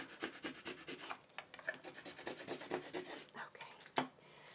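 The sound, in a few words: scraping vinyl label with a Cricut scraper tool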